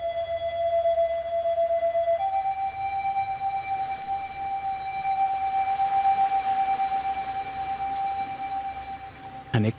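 Venice's high tide alarm siren sounds over a quiet city: steady sustained tones that step up in pitch partway through, moderately loud and continuous, ending with a brief knock.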